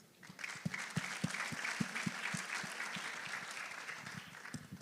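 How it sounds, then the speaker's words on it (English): A crowd at the Rwanda Convention 2025 gives a round of applause for the diaspora community, with steady, moderately dense clapping heard from a distance that carries on without pause. "A round of applause for the diaspora community."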